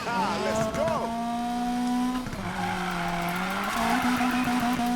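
Nissan S13 180SX drift build in a racing video game, its engine whining and shifting pitch as tires squeal through slides, someone speaking over the driving.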